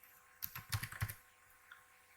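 Quick typing on a computer keyboard: a short cluster of crisp key clicks for about a second, fairly quiet and close, followed by a near-silent pause with one faint tap.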